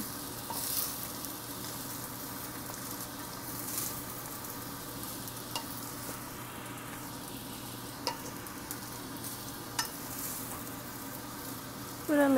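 Fried rice with chicken and shrimp sizzles steadily in a hot pan while being stir-fried, with a constant close frying hiss and occasional scraping clicks of the utensil.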